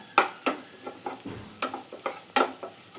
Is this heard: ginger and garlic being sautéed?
yes